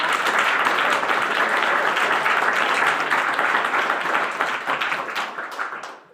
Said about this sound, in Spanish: Así que recibimos con un fuerte aplauso